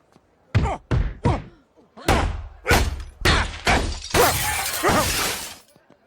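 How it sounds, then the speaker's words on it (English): A cartoon character's head is slammed against a nearby window several times in a row, each loud impact landing with a sharp crash and ending in a sustained glass-shatter burst. "he slams Peter's head against a nearby window"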